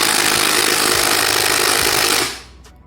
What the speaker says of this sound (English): We'll take our Harbor Freight impact.